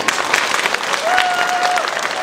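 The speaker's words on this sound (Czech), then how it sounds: "prosím velikánský potlesk pro naše sportovce z Dolákovy" Big round of applause for young sportsmen from a kindergarten in Doláková, steady dense clapping from a crowd with a faint whistle-like tone through the middle.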